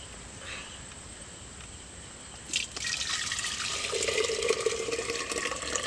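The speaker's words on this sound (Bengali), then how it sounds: "এবার এই ভাঁড়ের মধ্যে আমি দুধটা ঢেলে দেবো।" Milk poured into a clay pot while making a summer yogurt drink, a broad liquid splash and trickle starting midway and continuing steadily, close and fairly loud, with no talking.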